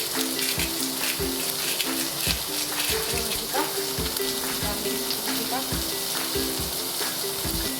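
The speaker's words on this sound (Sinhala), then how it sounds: "ලුණු සුදු ටික සාමාන්‍ය ප්‍රමාණයට දෙනකොට bell peppers ටිකක් එකතු කරනවා" Bell peppers and garlic sizzle and crackle steadily in hot oil that earlier fried duck, with occasional stirring scrapes under quiet background music.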